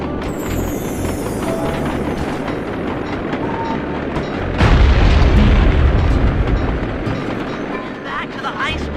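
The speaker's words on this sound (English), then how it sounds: "2 more cabooses to blow open." A caboose is blown open in the video game Sly 2, a heavy boom that lifts an already loud, rumbling train-and-wind background for several seconds before easing back.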